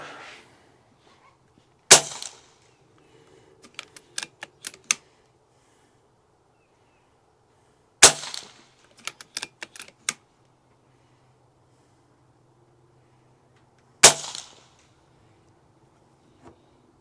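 BRK Ghost airguns fire at targets 50 yards out: three sharp, loud cracks about six seconds apart, each followed by a cluster of light clicks and clinks from handling, with near silence between.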